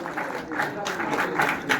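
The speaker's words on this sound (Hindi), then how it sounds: "जोरदार तालियों के साथ" An audience at a sports festival ceremony honouring winning children breaks into loud, dense applause, a steady wash of many hands clapping with voices mixed in.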